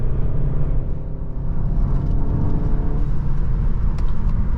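Manual MK7 Volkswagen Golf GTI pulling hard in second gear on a back road, a loud, steady, close engine drone with a deep rumble that holds evenly without pause.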